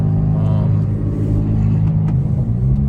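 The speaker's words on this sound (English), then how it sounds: "just listen to your car, no music on" A car engine rumbles deep and steady while driving, with low droning tones that shift slightly in pitch; no music or voices.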